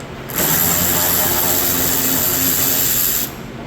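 A ratchet fitted with a 10mm socket spins bolts out of a 2011-2023 Dodge Durango SRT front bumper, a fast continuous clicking buzz lasting about three seconds before stopping abruptly.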